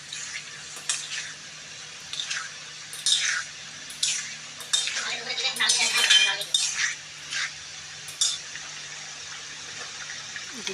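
A spoon scrapes and clinks around a pan of chilli chicken gravy, with irregular metallic strokes and a soft bubbling sizzle underneath, close and moderately loud throughout.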